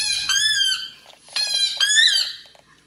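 A squeaky dog toy in a home with huskies gives three loud, close, drawn-out squeals with short pauses between them.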